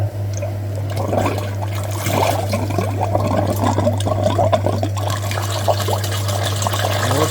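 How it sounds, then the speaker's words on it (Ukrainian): A pump flushes the coolant system of a Mitsubishi Pajero Wagon 3, a steady low electric hum under bubbling, gurgling liquid flow that keeps on without a break, close and fairly loud. "Підключилось, включаємо насоса."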